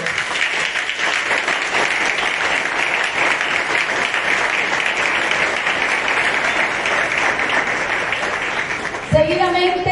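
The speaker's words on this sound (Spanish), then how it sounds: "Recibamos con un fuerte aplauso a nuestros graduados." A crowd at a school graduation ceremony applauds the graduates with strong, continuous clapping that holds steady for most of the stretch before breaking off into a brief voice or tone at the end.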